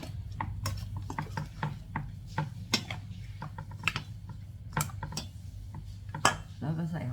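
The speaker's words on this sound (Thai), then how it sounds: "แล้วก็ใส่ไส้หมูอ่อนค่ะ แล้วก็หนังหมูค่ะ แล้วก็คลุกเคล้าให้เข้ากันนะคะ" Minced pork laab being mixed with pork intestine and pork skin, giving repeated small clicking, scraping and tapping sounds of a utensil against a bowl, with someone talking over it.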